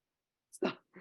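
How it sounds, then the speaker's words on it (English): A single sharp sneeze bursts out after a short silence, a quick intake followed by a loud explosive release, then a softer trailing sound. "That was a sneeze"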